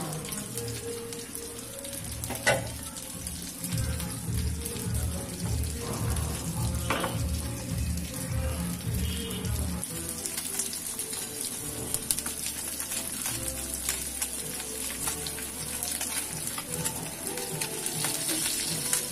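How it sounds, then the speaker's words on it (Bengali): Lemon masala fish fries in hot oil until crisp, giving a continuous dense sizzle and crackle close by. A low rumbling undertone runs beneath the first half, and the frying continues steadily with no talk. "মাছটা আমি সম্পূর্ণ ভেজে নিয়েছি, প্রায় মুচমুচে হয়ে গেছে।"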